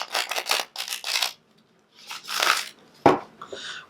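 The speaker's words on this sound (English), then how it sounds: "Can never shuffle enough, can you?" Tarot cards shuffled by hand at close range: a series of quick papery riffling bursts, a brief pause, then another rustling flurry and a sharp snap of the deck near the end.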